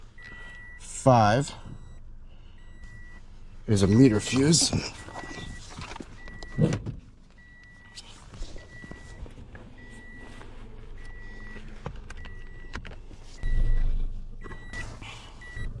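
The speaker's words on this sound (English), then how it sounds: "I need to turn the car on, so sorry about that annoying beep." A car's warning chime beeps steadily and faintly at a regular pulse while the car is switched on during fuse checks, running beneath a man's speech and some louder clunks.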